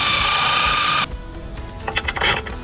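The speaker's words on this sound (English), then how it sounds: "We need to drill some holes. For this, I'm using a step drill bit." Step drill bit boring holes during a trolling motor install on a jon boat, a loud continuous whirring grind for about a second that stops abruptly, followed by a few clattering knocks.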